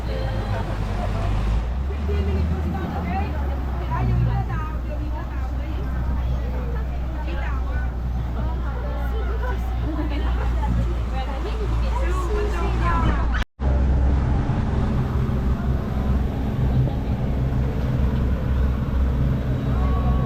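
A boat engine drones steadily and loudly as the boat pulls away from Khai Nok island near Phuket, with voices chattering over the motor throughout and a brief dropout partway through.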